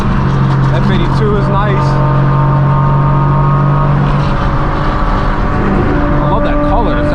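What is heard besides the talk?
car with loud straight-piped exhaust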